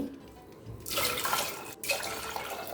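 Water poured into a pressure cooker holding soaked kidney beans, a steady close splashing stream that stops briefly and then resumes, no voices.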